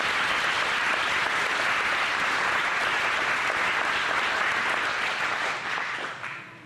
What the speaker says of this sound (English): Can we have a round of applause for all 10 of our contestants?